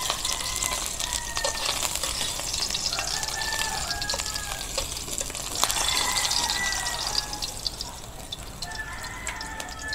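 Bikaw fish fries in hot oil with a steady, close sizzle and crackle, and a few brighter pops rise over the constant hiss throughout.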